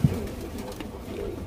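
A sick pet pigeon coos softly, with low throaty murmurs set against a quiet indoor background.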